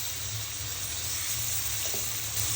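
Drumstick stalks and thinly cut potato go into a pan of cooked spiced masala, and a steady, dense sizzle hisses close by without a break, with no talking over it.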